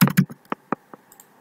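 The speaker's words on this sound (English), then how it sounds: "typing the user ID and password." Keys clack on a computer keyboard while a user ID and password are typed at a login screen: two quick louder strokes, then several lighter, spaced taps, close and clear against a quiet room.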